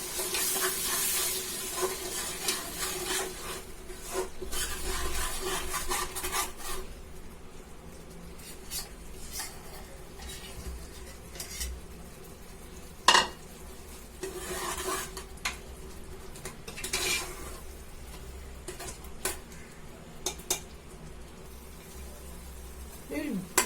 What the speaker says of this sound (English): Fry it mix it nicely and go on mixing and fry it till the raw smell goes